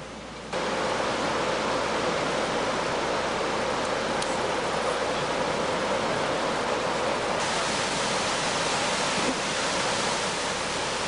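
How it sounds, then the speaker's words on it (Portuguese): A medium-sized waterfall at the Monte Alegre bathing spot in Arapeí pours in a loud, continuous broadband rush that starts abruptly after a brief quiet moment and holds steady throughout. "encontramos o balneário do Monte Alegre, um local com uma cachoeira de porte médio"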